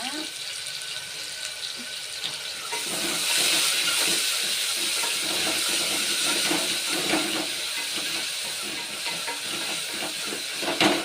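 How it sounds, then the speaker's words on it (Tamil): Onions sautéing in a pan for Chettinad chicken gravy: a steady, bright sizzle and hiss that swells a few seconds in and carries on continuously, with soft stirring clatter and a voice talking faintly underneath. "இந்த வெங்காயம் வதங்கி வரணும் வதங்கட்டும்"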